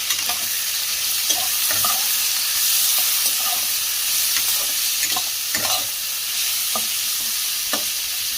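Vegetable stems fry in oil with salt, turmeric, black cumin and chillies in a pan, a steady close sizzle broken by repeated scraping stirs of a spatula, with no voices.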